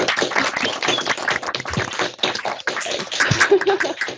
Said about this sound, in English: we're going to do a raucous round of applause